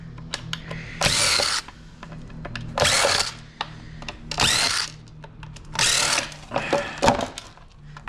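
A power drill whirs in five close, loud bursts of about a second each, backing screws out of a work table, with small clicks and taps between the runs.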